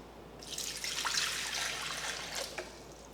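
Room-temperature water is poured into a Thermomix mixing bowl for pizza dough, a soft, close trickling splash lasting about three seconds with no one talking.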